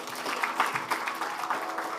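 An audience at a banking sustainable finance summit applauds, a steady even wash of clapping from many hands in a large room, moderately distant and sustained throughout.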